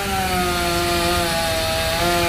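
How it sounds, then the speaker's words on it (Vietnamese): A chainsaw cuts through a large section of a giant Bucida molinetii tree near a house, the engine holding a loud steady whine with a slight pitch drift as the chain bites into the wood. "Giờ là anh sẽ cưa nguyên cái đoạn lớn đó luôn nha mọi người."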